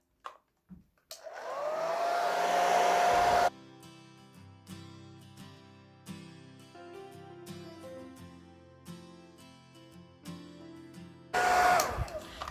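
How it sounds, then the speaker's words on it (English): Hair dryer blowing while curly hair is styled: a loud, steady whooshing whine that stops abruptly, gives way to background music, then starts up again briefly at the end. "Now it's time for hair dryer. The hair dryer is on fire."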